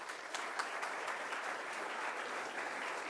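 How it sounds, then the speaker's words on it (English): An audience claps steadily at an inter-collegiate hockey trophy event, a dense, continuous wash of applause with a few sharper individual claps standing out. "How about another big round of applause?"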